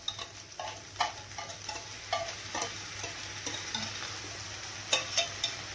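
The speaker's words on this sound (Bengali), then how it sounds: "এবার এখানে দিয়ে দেব ফেটানো দইটা।" Whipped yogurt poured into a pan of fried, cooked-down spice paste for a vegetarian paneer and pointed gourd curry, with a spoon stirring in a series of soft scraping strokes over a low, steady sizzle.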